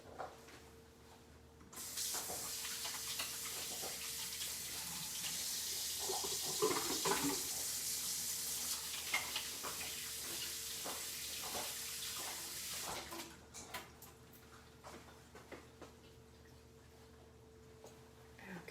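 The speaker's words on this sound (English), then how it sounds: "let me wash my hands" A kitchen tap runs steadily while hands are washed under it, a broad close hiss of water that swells and then eases off near the end, with a faint hum beneath.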